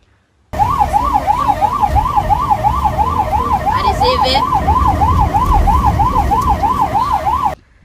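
An ambulance siren wails loud and close in a fast, steady up-and-down sweep lasting about seven seconds, starting and stopping abruptly, with faint traffic noise underneath.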